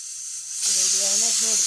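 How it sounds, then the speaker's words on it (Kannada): A pressure cooker steaming carrots on a gas stove lets out its whistle, a hiss that rises suddenly into a loud, steady shriek with a tonal wail, close by. "ಇದು ಎರಡನೇದು ನೋಡಿರಿ, ಇದು 2ನೇ ಸಿಟ್ಟಿ."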